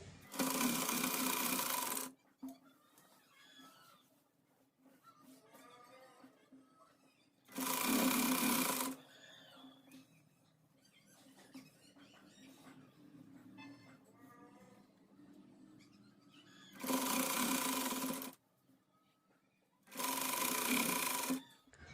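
A sewing machine stitches a half-inch seam on a semi-Patiala salwar in four loud, steady bursts of about two seconds each. Quiet handling and rustling of the fabric fill the gaps between them.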